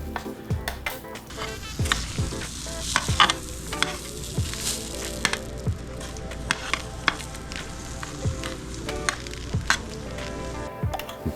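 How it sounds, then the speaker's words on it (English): Vegetables broiling in the oven for green chilaquiles, a steady crackling sizzle with frequent sharp pops and clicks, plus occasional knocks of tongs or a pan as pieces are turned over. "All right, so we got some broiling going on here."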